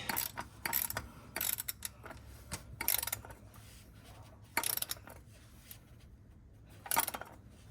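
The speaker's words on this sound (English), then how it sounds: "Take this oil filter wrench, put it on tighten, and just tighten it back." An oil filter wrench tightens the oil filter on a 2024 Toyota Corolla Hybrid, giving several separate bursts of ratcheting mechanical clicks spread out with pauses, close by and fairly faint.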